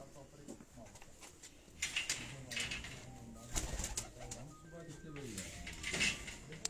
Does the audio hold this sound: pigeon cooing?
yes